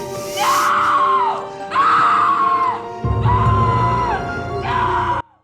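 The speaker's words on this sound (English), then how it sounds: "Top tier level horror screams right there." Horror screams from a Tales from the Crypt episode, four loud drawn-out shrieks in quick succession, each rising and then falling off, with a low rumble under the last two.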